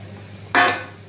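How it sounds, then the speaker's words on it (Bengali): Water poured into a hot pan of spiced potatoes cooked down with masala, giving one sudden loud hiss-splash that fades within a fraction of a second. "এবার এর মধ্যে আমি জল ঢেলে দিলাম"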